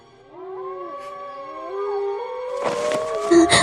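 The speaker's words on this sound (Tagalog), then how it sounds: "nakarinig ng sunod-sunod na pag-alulong ng aso mula sa labas ng bahay" Several dogs howl outside at night, long rising and wavering tones overlapping in a sustained chorus, fairly close and loud, joined toward the end by rougher, noisier barking cries.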